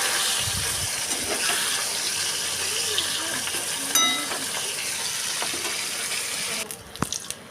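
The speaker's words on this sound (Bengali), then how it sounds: "তো এখানে আমি মাছগুলোকে ভালো করে ভেজে নেব।" Large, thick bata fish frying in oil in a pan: a steady, close crackling sizzle that runs throughout, with a brief clatter near the end.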